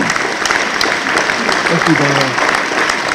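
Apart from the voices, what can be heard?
audience applause at a conference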